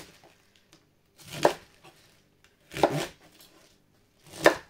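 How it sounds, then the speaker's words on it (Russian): A knife chops cabbage into cubes, giving three crisp, separate cuts about one and a half seconds apart, each a short crunchy thud against a quiet background. "Вот такими кубиками нарезаем всю капусту."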